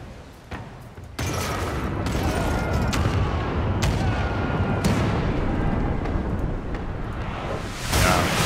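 Ship cannons loaded with grape shot fire in a video game, a heavy booming volley that bursts in and roars continuously with rumbling debris, then a fresh blast near the end.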